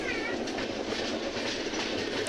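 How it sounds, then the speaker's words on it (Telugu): A Rayalaseema Superfast train hauled by a WAP 7 electric locomotive, slowly gathering speed, gives a steady close rumble and rattle of carriages, continuous throughout with a faint clickety-clack. "వ్యాప్ 7 లోకో అనేది పుల్ చేస్తుంది రాయలసీమ సూపర్ ఫాస్ట్."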